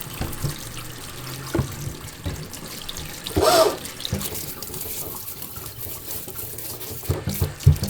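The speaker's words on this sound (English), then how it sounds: "I'm going to bring it back in and just do a light water rinse." Water runs from a kitchen faucet into a sink as produce is given a light rinse, a soft continuous splashing with a brief louder gush midway and some handling clatter.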